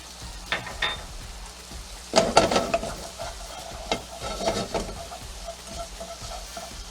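Shrimp seasoned with salt and pepper cook in a pan, with a soft sizzle underneath and bursts of stirring and scraping that cluster in the middle, then scattered clicks of a utensil against the pan.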